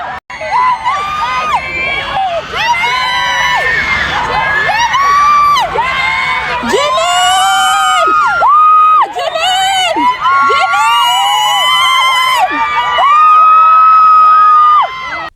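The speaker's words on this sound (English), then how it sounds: "he once again gathered a big crowd that were chanting his name." A loud, dense crowd at Paris Fashion Week screams, cheers and chants a name with high-pitched whoops, swelling in repeated bursts and sustained throughout, close and intense.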